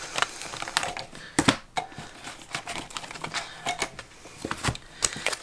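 Cash envelope wallets are pulled out of a budgeting setup, giving close, irregular crinkling, rustling and light tapping of paper and plastic with no talk.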